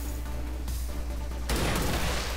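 A sharp gunshot in the video game XCOM 2, one loud blast that breaks over a low steady background rumble and leaves a noisy wash trailing after it, with no voices over it.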